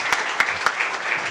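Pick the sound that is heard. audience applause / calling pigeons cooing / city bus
audience applause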